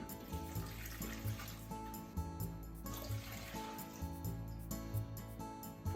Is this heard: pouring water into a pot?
yes